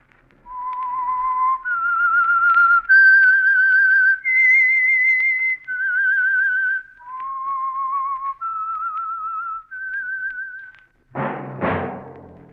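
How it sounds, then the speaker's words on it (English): A lone human whistler carries a slow, clear melody of sustained notes stepping up and down, the signature signal of the Signal Oil radio program The Whistler, ending in a brief burst of noise. "That whistle is your signal for the Signal Oil program, The Whistler."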